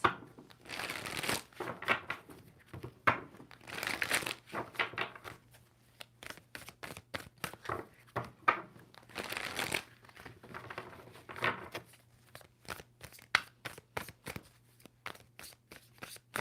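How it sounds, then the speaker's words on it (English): Tarot deck being shuffled by hand, close and soft, in repeated riffling bursts with short pauses between them and occasional card taps; no speech. "Two more shuffles."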